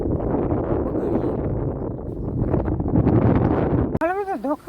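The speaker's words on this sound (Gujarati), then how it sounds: "અહીંયા પવન બહુ આવે ને એટલે વિડીયોમાં આપણો અવાજ નથી આવતો પવનનો જ અવાજ આવે" Heavy wind buffeting an outdoor microphone on a village farm road after rain, a loud rumbling roar that swamps the scene, then a voice comes through briefly near the end.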